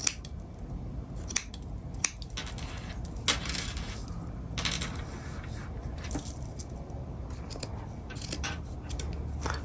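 Scissors snip the ends of a yarn tassel for a leaf-motif crocheted runner, a few crisp cuts spaced irregularly against a faint room hiss, close and fairly quiet.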